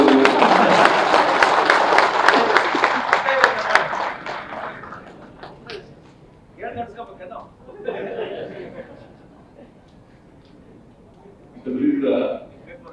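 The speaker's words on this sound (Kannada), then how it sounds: "ಈ ಚಪ್ಪಾಳೆ ತಟ್ಟದೇನು" Audience applause fills the room at a Chief Minister's address to journalists, a dense, loud wash of clapping for about four seconds that fades into quieter murmurs and scattered sounds before a short burst returns near the end.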